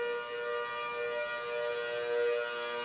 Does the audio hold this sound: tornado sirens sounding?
yes